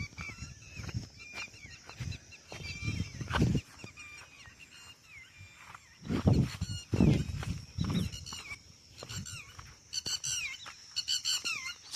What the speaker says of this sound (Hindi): देखो भाई मोर चिल्ला रहा है